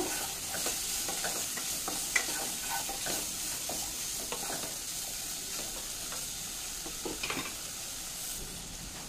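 Paneer with chili and garam masala is stirred in a hot pan, a steady sizzle running throughout with scattered scrapes and taps of the spoon against the metal, close and moderately loud, with no voices.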